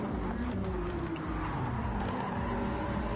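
Race cars lap the Dragon Trail Seaside circuit in the video game Gran Turismo, a steady distant engine drone with faint tyre squeal throughout, no talk.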